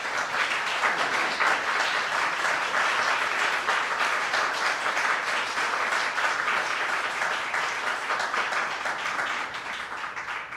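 A crowd applauds at a Columbus Women's Commission event for Black Women's Equal Pay Day: steady, dense clapping that holds at full strength, then eases slightly near the end.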